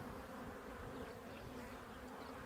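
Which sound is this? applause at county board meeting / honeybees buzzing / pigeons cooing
honeybees buzzing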